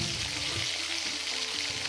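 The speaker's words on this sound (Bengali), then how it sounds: "চিতল মাছের পেটিগুলোর এক সাইড ভাজা হয়ে গেলে অপর সাইড উল্টে দিতে হবে।" Pieces of chital fish frying in pungent mustard oil give a steady, close broadband sizzle that holds evenly for the whole short stretch, with no voices over it.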